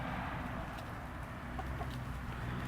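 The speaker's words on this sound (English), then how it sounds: "This ain't a place for chickens." Chickens cluck softly and intermittently over a steady, noisy outdoor background, with a few brief sharper calls and no talking.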